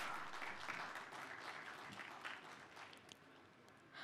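Faint, distant audience applause at a digital identity and financial conference, steady soft clapping lasting about four seconds.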